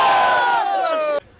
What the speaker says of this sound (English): The crowd atmosphere is really, really good.